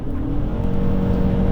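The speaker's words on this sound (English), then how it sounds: "And then the gas engine" The gas engine of a 2022 Ford Maverick XL hybrid pickup runs with a steady, loud, low drone and a faint whine above it, close by and with no voices.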